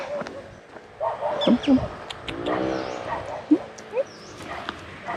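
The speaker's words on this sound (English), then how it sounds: "You can hear other dogs barking." Several dogs bark and yip at a distance, with whimpering and other sounds mixed in, scattered over a few seconds.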